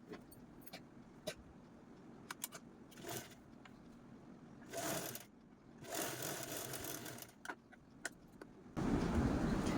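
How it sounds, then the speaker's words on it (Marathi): A sewing machine stitches a zip onto fabric for a small DIY purse, with short bursts of motor whir and needle clatter separated by pauses, ending in a longer, louder run; no talking. "आता झिपची जी राईट साईड आहे ती अशा प्रकारे आपल्याला ठेवून स्टिच करायचं आहे"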